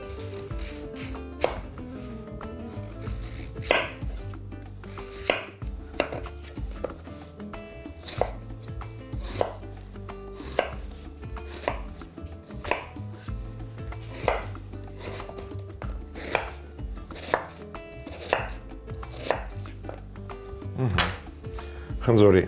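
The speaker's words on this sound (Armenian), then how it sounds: "Եվ կտրատում ենք խորանարդիկների։" A knife chops an apple into cubes on a cutting board, giving a long series of crisp, close knocks at an irregular but steady pace, some in quick clusters, with a soft low hum beneath.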